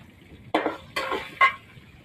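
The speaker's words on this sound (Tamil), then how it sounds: "பச்சை மிளகாய், காஞ்ச மிளகாய், வெங்காயம் இதை சேர்த்துட்டு நல்லா வதக்கி எடுத்துடலாம்" Green chillies, dried chillies and onion sauté in a pan for upma, heard as three short scraping stirs of a spoon against the pan with a faint sizzle between them.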